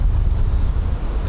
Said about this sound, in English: And as you can see, it is extremely windy today